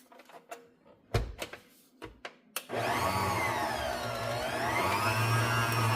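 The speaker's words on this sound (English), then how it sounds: "And I've got this on probably just mixing mode, which on my mixer is about a 4." Electric hand mixer whirring steadily through muffin batter at a medium setting, starting after a few scraping knocks and running loud and continuous to the end.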